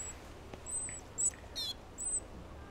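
A European robin sings in the hand while being ringed during a bioblitz, short high thin phrases and chirps in separate bursts against a quiet background, close by.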